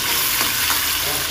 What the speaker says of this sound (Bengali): একটু লাল করে সুন্দর করে মাছগুলো ভেজে নেব।